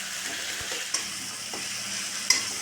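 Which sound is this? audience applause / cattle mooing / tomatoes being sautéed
tomatoes being sautéed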